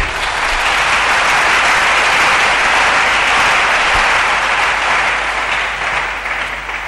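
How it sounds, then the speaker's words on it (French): A church congregation claps in sustained, dense applause, loud and steady throughout with no voices standing out. "Alléluia. Acclamons le nom de Jésus."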